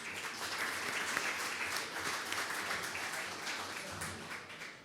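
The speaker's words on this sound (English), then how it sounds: "Let's give them a round of applause." Applause from the audience at a city State of the City event, thanking the evening's sponsors; steady, dense clapping fills the whole stretch at moderate distance.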